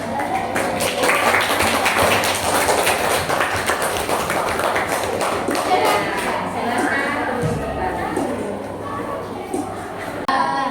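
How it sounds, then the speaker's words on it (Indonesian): Classroom applause from students, quick irregular clapping that stays busy and fairly close for several seconds, with voices mixed in and the patter thinning toward the end. "Beri tepuk tangan kepada yang sudah mengerjakan produk hasilnya"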